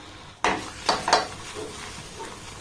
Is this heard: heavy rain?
no